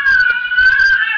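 An electronic predator call plays a fawn-in-distress sound for calling coyotes and foxes: one steady, high, wavering bleat held loud for the whole stretch, with no voices.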